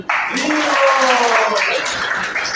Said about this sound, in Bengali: প্রভুর জন্য একটা হাত তালি দেন।